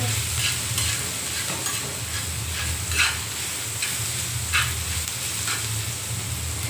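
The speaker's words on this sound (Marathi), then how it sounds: "कांदा चांगला परतून घ्यायचा चांगला लालसर होईपर्यंत" Onions frying and sizzling in a pan while being stirred for a bitter gourd dish, a steady close hiss with occasional scraping stir strokes and no talk.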